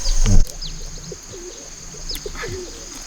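Bird calls in a rice field at harvest, a quail caught during the rice harvest: a low thump at the start, then a few soft cooing and chirping notes that stay faint against the outdoor background.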